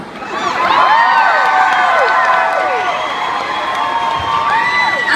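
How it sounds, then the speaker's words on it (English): A crowd at a concert in Oakland cheers and whoops loudly, with sharp high shrieks rising and falling throughout and some scattered clapping. "But please give us lots of applause."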